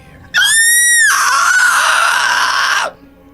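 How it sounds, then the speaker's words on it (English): A voice gives a shrill, piercing animal-like cry for a monster in a Dungeons & Dragons tabletop game, a loud sustained screech lasting over two seconds that starts as a clear pitched wail and turns raspy before cutting off. "Phaedron makes a shrill animalistic cry."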